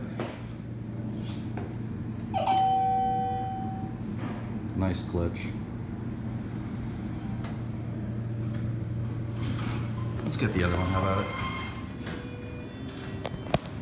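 Haughton/Schindler service elevators at the Boca Raton Resort Cloister building sound a clear ringing chime, followed by further chime tones and mechanical door movement amid a low hum and nearby murmuring voices.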